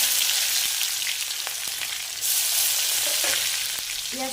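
Onions sizzle and fry steadily in a pan for a cauliflower and egg curry, a dense continuous hiss with a few soft clicks and light stirring scrapes, close and alone without speech.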